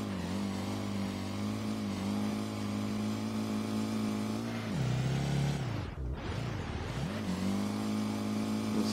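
A Nissan S15 engine revs hard in first gear in the SLRR driving game, a steady high-pitched drone that drops sharply as the revs fall, then climbs back up.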